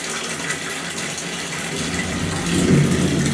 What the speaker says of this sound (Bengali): দেখো সব কিছুতে পানি ভরে রাখছি, যেহেতু কারেন্ট নাই।